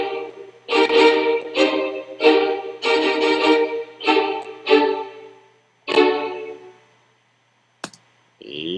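A quantized tune played back in the Reaper DAW: a series of evenly timed, bright synthetic notes repeating in a steady beat, then a short pause and a final faint blip.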